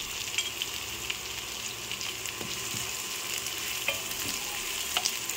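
Onion and green chillies fry in a pan for a Bengali kochu shaak dish, a steady dense sizzle running throughout with a few faint stirring clicks, close and alone without talk.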